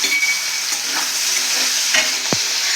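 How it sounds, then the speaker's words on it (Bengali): Shrimp frying in mustard oil in a pan, a steady close sizzle with faint stirring scrapes and one sharp utensil knock near the end. "আবার ওই তেলে আমি চিংড়ি মাছগুলো দিয়ে দেবো"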